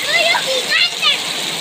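Heavy rain pours down in Michoacán as a loud, continuous wash of water splashing. A voice and other speech rise over the downpour.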